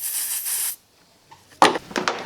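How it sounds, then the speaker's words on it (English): Aerosol can spraying gunk degreaser onto bolt threads, a short hissing burst, then a pause and a few clunks and scrapes of tools nearby. "spray some gunk down there and let it go through the threads for 5 minutes"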